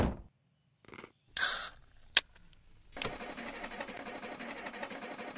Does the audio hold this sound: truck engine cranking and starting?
yes